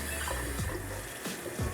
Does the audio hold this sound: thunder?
no